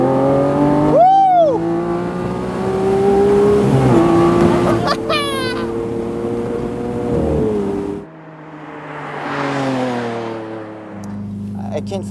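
Lamborghini Aventador with a pure, non-hybrid engine revving hard to high RPM, loud and close with rising and falling engine tones and a sharp blip, while people talk and exclaim over it.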